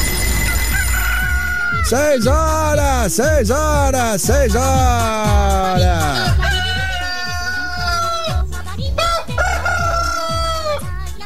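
Rooster crowing repeatedly in a rapid series of long, wavering calls, loud and close, over a busy background of speech, with more crows following as the clip goes on.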